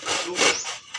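A sharp hand saw cuts through wood in rasping strokes, close and fairly loud, with about one full push-pull stroke and the start of another.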